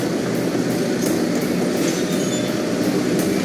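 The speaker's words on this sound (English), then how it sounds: "I think that was the last train for today." A train rolls past in the Minotaur demo video game, a steady loud rumble of wheels on rails with faint squeals and rhythmic clacks throughout, no voices.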